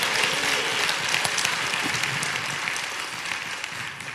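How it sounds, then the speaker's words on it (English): A church congregation gives a hearty praise clap, dense applause from many people filling the room at a steady level, with a few sharper claps standing out and no speech over it. "let's give the Lord a big praise clap"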